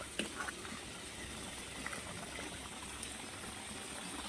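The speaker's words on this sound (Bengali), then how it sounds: "দেখো খুদ কিরকম শব্দ করছে টকবক টকবক" Broken rice boiling in a pot, a faint, steady bubbling and simmering hiss with a few soft pops, heard from a short distance with a quiet background.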